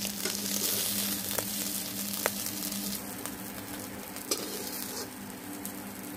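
Half-boiled potatoes fry in oil, with a steady close sizzle and occasional sharp clicks of a utensil stirring against the pan.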